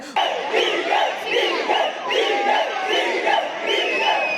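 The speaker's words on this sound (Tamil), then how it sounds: "டிவிகேன்னு கத்திக்கிட்டு தளபதின்னு கத்திக்கிட்டு ஒரு மாதிரி பாத்தீங்கன்னா குரங்குங்க மாதிரி ஆட்டம் போட்டுக்கிட்டு இருக்காங்க" A crowd of fans in Kodaikanal shouts TVK and Thalapathy in loud, rhythmic chanting that carries steadily throughout, a dense mass of voices close by.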